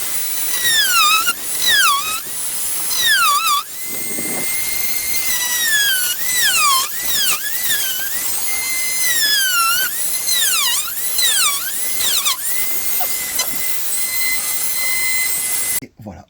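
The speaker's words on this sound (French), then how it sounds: "La petite scie circulaire, on la met en route." A small circular saw is started and cuts into material, its high whine repeatedly dipping and rising in pitch as the blade bites, loud and close for about fifteen seconds before stopping.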